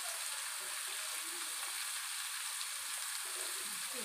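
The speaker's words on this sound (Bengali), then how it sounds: "লবণ দিয়ে নাড়িয়ে নিচ্ছে।" Food frying with salt added gives off a faint, even sizzle and hiss, with soft stirring scrapes barely rising above it.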